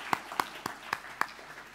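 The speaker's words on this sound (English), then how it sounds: "Give him another round of applause." Five sparse, evenly spaced claps ring out in a small venue at a science-and-poetry event, thin and isolated rather than a full crowd applause.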